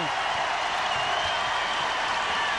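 A Louisville Cardinals basketball crowd at an NCAA tournament game applauds and cheers in a continuous, even roar of clapping and voices, moderately loud and unbroken.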